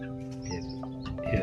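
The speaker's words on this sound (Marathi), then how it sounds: "आमचं कोंबडा आता निघाला बाहेर फिरायला" Chickens at a rural home cluck softly around a rooster out for a walk, with chicks about. The brief, faint calls sit within steady background noise.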